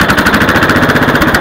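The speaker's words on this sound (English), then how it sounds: "I'll fire it up. This one runs just fine." A 14 hp Kohler engine on an Allis Chalmers 314D garden tractor with a homemade exhaust runs close and loud, a rapid, steady, chugging beat with no talking.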